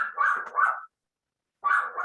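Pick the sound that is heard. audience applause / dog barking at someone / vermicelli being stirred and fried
dog barking at someone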